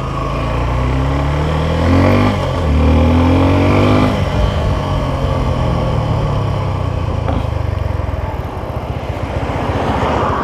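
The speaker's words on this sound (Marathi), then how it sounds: "RPM खेचल्यावर गाडी कडक फायरिंग देते यार आपल्या" A car engine revved hard at high RPM, loud and close with a rising and falling whine and a steady roar throughout, on a road trip between Belagavi and Hampi; no talking.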